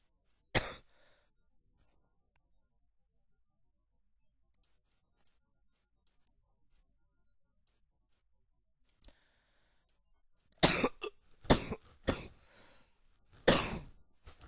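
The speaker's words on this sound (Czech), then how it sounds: "Opravdu se za tím kašlem moc omlouvám, ale prostě nejde to." One sharp nearby cough, then a long quiet gap, then a quick cluster of several loud, close coughs near the end.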